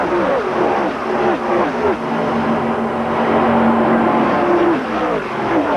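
Chevrolet Monte Carlo and Ford stock cars in a 1996 ARCA race at Talladega Superspeedway, engines roaring loud and continuous as they climb back to full speed, pitch rising and sustained throughout.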